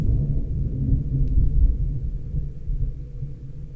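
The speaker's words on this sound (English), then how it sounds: "Whoa, did you hear that thunder?" Deep, rolling thunder rumbles steadily through a rainstorm, loud and sustained, with no voices.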